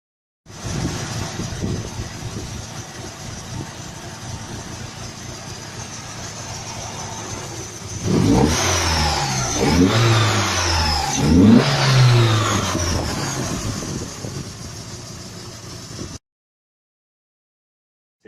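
Mk1 Golf carrying a 1.8 8-valve Mk2 Golf GTI engine, idling steadily then revved in several rising and falling bursts, close and loud, before cutting off abruptly.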